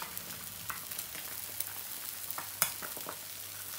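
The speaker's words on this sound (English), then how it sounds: "Now let's divide up these eggs. Start getting them flipped around." Eggs frying in a pan, a steady soft sizzle with scattered scrapes and taps as they are split and flipped, one sharper clack near the end, close and without talk.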